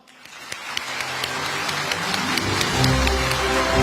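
An audience applauds after the Prime Minister's lecture at a business forum summer event, dense clapping that swells and grows louder over several seconds, filling the hall.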